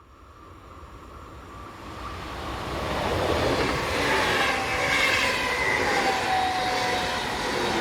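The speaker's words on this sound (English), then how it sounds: "Not far behind is 445-008 on a service from Bielefeld to Braunschweig." Westfalenbahn unit 445-008, running from Bielefeld to Braunschweig, passes by. A wheel and track roar builds from quiet to loud and holds steady, with faint squealing tones drifting above the broadband rush.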